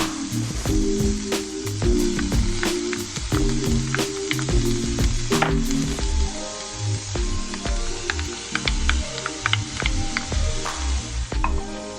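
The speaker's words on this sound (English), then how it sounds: "we want to start cooking our veggies down, okay? Get them sauteed down." Vegetables sauté in a hot frying pan, a loud continuous sizzle and crackle with scattered pops and clatters of stirring, close up and with no voices.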